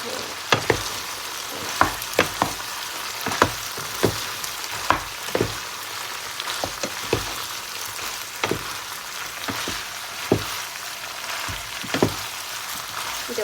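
Minced beef and eggplant are stir-fried in a pan under a constant crackling sizzle. A spatula strikes the pan in regular sharp taps throughout, heard close with no talking.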